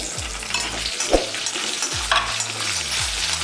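Small onions frying in a tempering of curry leaves and dried chillies, a bright close sizzle with spatula scrapes and stirs, fairly loud, with no one talking.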